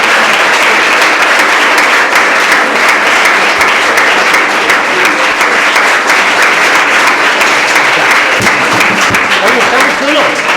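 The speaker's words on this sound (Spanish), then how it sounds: "Ahora normalmente aplaude." Sustained, loud applause from an audience at a book presentation in Toledo, dense clapping that fills the room and continues steadily throughout.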